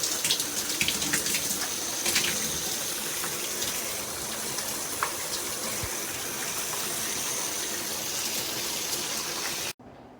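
A new filtered high-pressure StoneStream shower head sprays water in a steady, loud, close hiss, then cuts off abruptly near the end.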